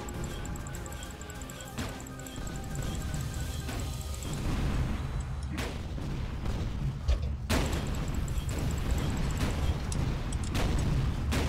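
Tower of Guns 2 gameplay with scattered gunshots and explosions: sharp cracks and booms over a dense, rumbling game soundscape, moderately loud, with a few heavier blasts toward the end and no voice.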